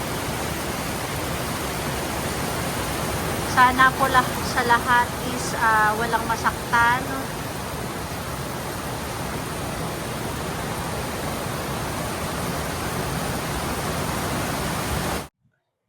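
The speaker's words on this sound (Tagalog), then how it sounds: "Malakas pa rin yung ulan." Heavy rain pours steadily with runoff water flowing downhill, a constant broadband hiss close by; someone speaks briefly partway through.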